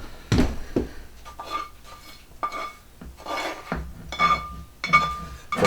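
Metal utensils scrape and clink against a skillet as cooked vegetables are lifted out for jalapeno and onion stuffed pork loin chops, a run of close, irregular scraping strokes with short pauses and no talk.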